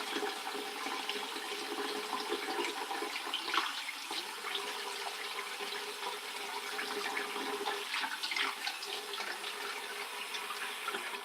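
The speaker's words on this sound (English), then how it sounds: "let me wash this off" A tap runs to rinse off a straight razor: a steady, faint rush of water that continues without a break, with soft splashes and no talking.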